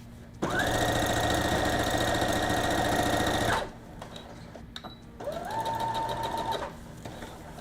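A sewing machine stitches a decorative fancy stitch in two runs, a long loud continuous whirring burst, a pause with small clicks, then a shorter, quieter run, heard up close with no talk.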